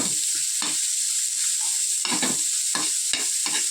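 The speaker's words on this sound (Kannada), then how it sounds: "ಆನಿಯನ್ ಮತ್ತು ಶುಂಠಿ ಮತ್ತು ಬೆಳ್ಳುಳ್ಳಿ ಚಾಪ್ ಮಾಡಿ ಇಟ್ಕೊಂಡಿರೋದು ಮತ್ತು ಮೆಣಸಿನ್ಕಾಯಿ ಹಾಕೊಂಡು ಚೆನ್ನಾಗಿ ಫ್ರೈ ಮಾಡ್ಕೊಳ್ತೀನಿ" Chopped onion, ginger, garlic and green chillies frying in oil for a Mandya-style lady finger curry, a loud continuous sizzle broken by repeated scraping strokes of a spatula against the pan.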